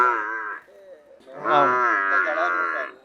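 A Murrah buffalo moos at a livestock market, two loud, close calls: a short first bellow, then a longer, rising, strained moo after a brief gap.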